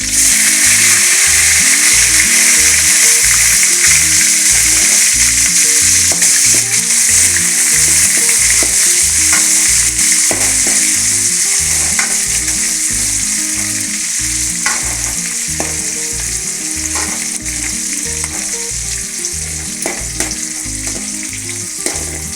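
Curry leaves and onion frying in oil as the base for a fish curry, a loud, dense and continuous sizzle with a faint rhythmic tapping running underneath throughout.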